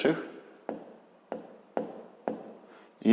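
Pen writing out a sixth-grade math solution on paper, heard as short scratchy strokes in bursts about every half second, close and fairly quiet.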